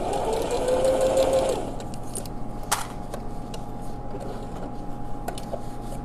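A sewing machine runs a fast, even stitch along a saddle pouch seam for about a second and a half, close and loud, then stops, leaving a few small clicks and taps from handling the material.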